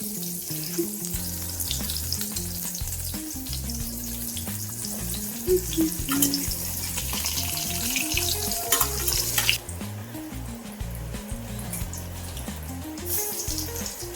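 Eggplant slices fry in hot oil with a steady, close, continuous sizzle and an occasional clatter of utensils, with no voices.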